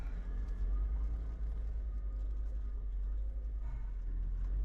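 Sand trucks rumble past on a roadside, a steady, heavy low engine and tire roar that stays loud and continuous throughout, with no speech.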